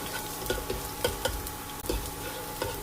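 Chopped garlic sizzling in hot ghee over a medium flame, a steady close frying hiss with soft scraping stirs recurring about every half second.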